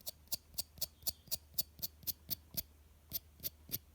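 Fingernail being trimmed with a Swiss Army knife blade, heard as a close, quiet series of about fifteen sharp clicks and scrapes in a steady rhythm, with no talking.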